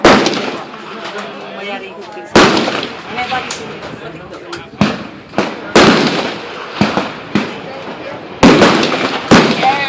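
AR-15 rifle gunshots ring out outdoors as several loud, sharp cracks spaced a second or two apart, each with a short echoing tail, while people talk between and under the shots.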